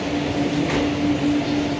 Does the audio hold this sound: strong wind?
no